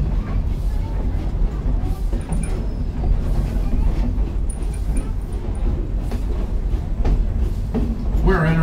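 A train on the Grand Trunk Railroad rolls into a station with a low rumble and intermittent metallic squeaks and clanks, while people's voices murmur in the background.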